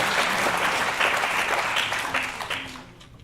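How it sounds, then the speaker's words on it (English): An audience at a livability summit keynote breaks into applause, a burst of clapping that swells quickly and then tapers off over a few seconds. "You can clap on that. I would clap on that."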